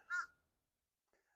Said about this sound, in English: You also have a very noisy bird on this